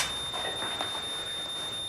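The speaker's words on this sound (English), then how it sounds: "Fire alarm, do you think?" An indoor fire alarm sounds as a continuous high, thin electronic tone, fairly faint and steady under a muffled room bustle of movement.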